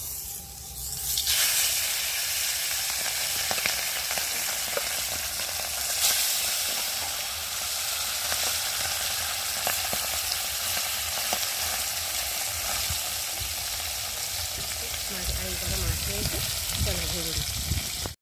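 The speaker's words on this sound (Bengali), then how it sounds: "আর মাছগুলো একে একে ভেজে নেব" Fish sizzling and spitting as it fries one piece at a time in hot oil in a wok, a steady close hiss with occasional crackles and faint utensil clinks throughout.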